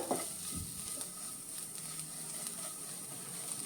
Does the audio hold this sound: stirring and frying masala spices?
yes